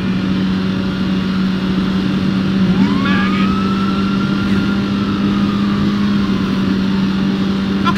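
A car tears along in a video game while fleeing the police: a constant engine drone with a rising, revving whine that climbs and holds near the middle, and no other sounds stand out.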